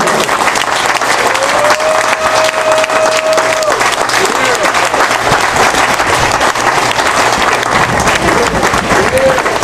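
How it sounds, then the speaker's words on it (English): Enthusiastic audience applause, loud and sustained clapping from a crowd for several seconds, with some voices and cheers mixed in. "Let's hear it for Jeff."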